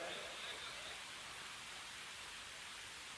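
Steady rain pours down during an outdoor religious sermon, a dense, even hiss holding at the same level throughout, with no clear voice over it.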